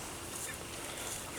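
Chickens out on grass for the first time, giving a steady, close chorus of soft honking clucks and murmurs that runs without pause and without any talking.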